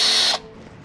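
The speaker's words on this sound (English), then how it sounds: "you turn your drill on to twist it around" A cordless drill spins a WeedSpinner WS-1 weed removal tool down into gravel, giving a short, loud whirring burst that cuts off abruptly, leaving a quiet tail.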